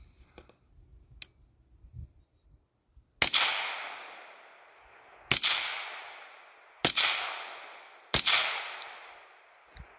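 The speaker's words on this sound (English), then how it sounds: "Let's shoot these next 4 rounds." Four sharp gunshots fired at a target outdoors, spaced a second or two apart, each a loud crack with a short decaying echo, following quieter handling clicks and no talking.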